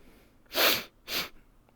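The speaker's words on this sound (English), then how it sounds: "I'm not sniffling because I'm sad." Two quick, breathy nasal bursts from someone with allergies, a short sniffle repeated with a brief gap, fairly close and alone without talk.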